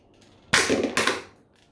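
An X-Shot single-shot foam dart blaster fires once at close range, giving a sharp, loud pneumatic whoosh-crack that is quickly followed by a second burst of air before fading into quiet.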